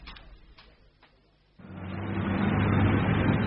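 A car drives along a street in a radio drama, starting quietly with a door-like knock, then a broad engine and road rumble swells up and holds steady and loud.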